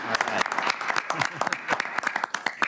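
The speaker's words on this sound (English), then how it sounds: "let's give them a round of applause right now." Applause at a committee meeting: a close, lively burst of many hands clapping, with sharp individual claps standing out and a few voices mixed in.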